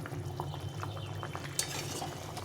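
A pot of snakehead fish curry sauce bubbles and simmers at a low level, with soft popping and the occasional clink of a utensil.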